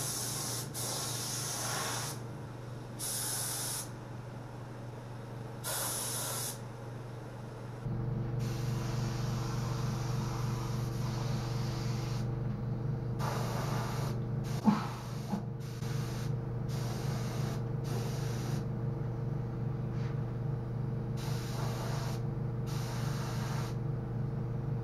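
Spray gun laying epoxy primer into the door jambs of a custom PT Cruiser with the doors on, repeated hissing bursts over a steady compressor drone that rises partway through, close and fairly loud, no talking.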